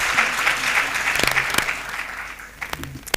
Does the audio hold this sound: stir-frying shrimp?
no